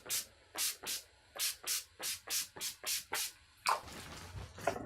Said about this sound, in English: And then some Urban Decay All Nighter Pollution Protection Setting Spray.